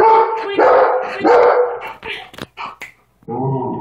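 A dog barks repeatedly in close, loud bursts, with a few short yips and whimpers between barks and a person's voice breaking in near the end.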